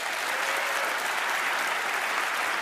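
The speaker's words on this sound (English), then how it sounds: "Big round of applause." A studio audience at the Penn & Teller: Fool Us magic show breaks into steady, dense applause. It is loud and unbroken, with no voices on top.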